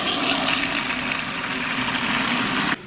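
Warm water running steadily into a bucket, a loud continuous rushing gush that cuts off abruptly near the end, with no talking.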